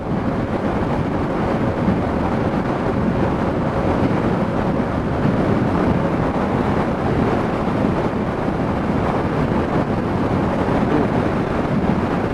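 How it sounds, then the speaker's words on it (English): Constant roaring wind buffeting the microphone on a bridge during a bike ride, a dense, unbroken rush of noise with no pauses for the whole stretch. "As I figured, it would be a bit windy on the bridge."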